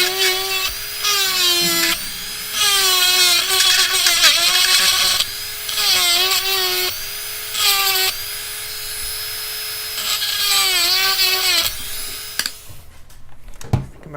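A high-pitched drill whines in repeated bursts, pitch dipping as a cheap off-center drill bit bites into a metal lock, with short pauses between runs, close and loud.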